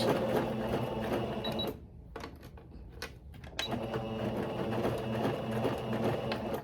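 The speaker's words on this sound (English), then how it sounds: "So I'm gonna go ahead and back stitch." A sewing machine stitches a tutu skirt at an even pace, briefly stops, then back stitches in reverse for a few more seconds of steady mechanical whirring.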